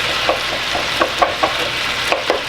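Chopped onions frying in a pan for a beef heart stew, a steady close sizzle with light stirring clicks scattered through it.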